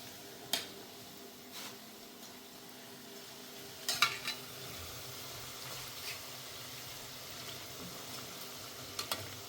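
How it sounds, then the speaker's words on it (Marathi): Onion bhaji fritters fry in plenty of hot oil with a soft, low continuous sizzle, broken by a few sharp clicks and clatters of a utensil turning them. "भरपूर तेल असल्यामुळे ते फिरतात आणि त्यांना तळण्यासाठी मोकळी जागा पण होण्यासाठी मोकळी जागा पण मिळते"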